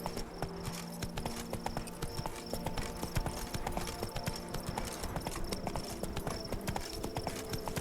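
Horse hooves galloping in The Witcher 3, a steady rapid clip-clop of hoofbeats running throughout, loud and close, with occasional game sound layered over it.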